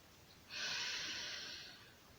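A single audible breath drawn in during a leg and hip mobility exercise, a soft airy hiss lasting about a second and a half, close and fairly faint, fading out gradually.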